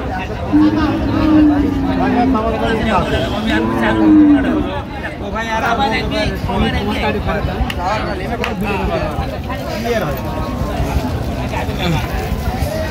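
Cattle at a busy cattle market give two long, loud moos close by, surrounded by the babble of people talking and bargaining.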